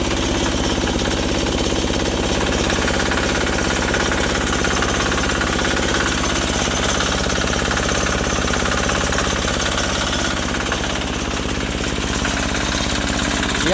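A Sears Suburban 6HP diesel tractor engine runs loud and close with a steady hammering knock, holding a fairly even rumble throughout with no talking.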